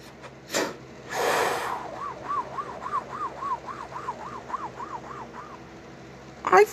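An ambulance siren wails in a regular, repeating up-and-down pattern at moderate volume, following a couple of loud bursts of noise at the start and ending with another burst.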